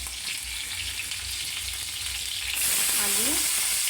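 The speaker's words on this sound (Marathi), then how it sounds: "हे तेलामध्ये मस्त फ्राय होऊ देते" Cumin, green chillies and potatoes fry in a shallow layer of hot oil, a steady close sizzle that swells louder partway through as fresh pieces hit the pan, with a brief scrape of stirring near the end.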